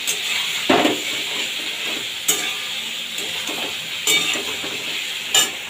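A vegetable curry of potatoes and wild greens with grated flour is stirred in a sizzling pan, a steady frying hiss broken by several clear spoon knocks and scrapes against the metal.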